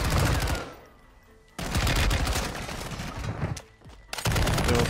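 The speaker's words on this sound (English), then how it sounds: "Now it's time for the RAL LMG." RAL LMG machine gun from Warzone 2 firing in long, loud automatic bursts, first briefly, then for about two seconds, with short pauses between bursts and a final burst at the end.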